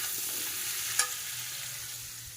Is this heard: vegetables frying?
yes